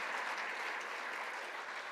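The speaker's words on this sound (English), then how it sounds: "how about a round of applause to thank our sponsors and welcome our students." Steady applause from a crowd, a dense wash of clapping hands that holds evenly for the whole two seconds with no voices rising above it.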